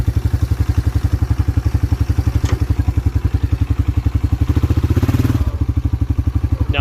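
A 1987 Yamaha Moto 4 YFM-350ER ATV runs with a loud, close, steady thumping idle, its regular engine pulses briefly rising and dropping near the end, with no voices.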